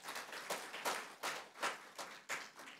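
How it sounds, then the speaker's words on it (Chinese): A church congregation claps together during a worship service, making faint, fairly rhythmic bursts of hand claps roughly every half second, heard from a distance without talk. "我们给我们的上帝一个掌声好不好？"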